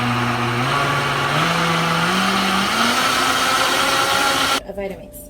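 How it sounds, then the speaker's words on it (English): Vitamix A3300 blender motor ramping up in stepped pitch rises to a loud high-speed whir, then cutting off abruptly near the end, with a voice speaking over it. "So we want to blend stuff. And it says I should increase all the way up to"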